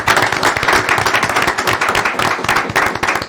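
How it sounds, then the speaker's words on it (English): An audience at a council meeting applauds steadily and loudly throughout, a dense wash of many hands clapping together with no pause. "Give him a round of applause."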